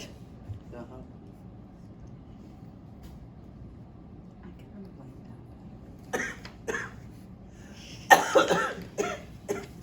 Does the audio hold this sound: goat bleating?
no